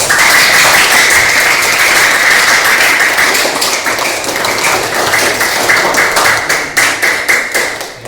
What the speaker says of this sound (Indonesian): Silakan tepuk tangan.